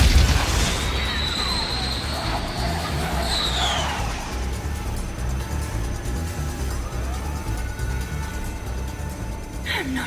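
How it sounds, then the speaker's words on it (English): Hypersonic missiles fire and explode in a dubbed animated show, a loud whooshing launch followed by sustained roaring blasts and rumbling, with sweeping streaks and a fresh burst near the end. "Hypersonic missiles, fire!"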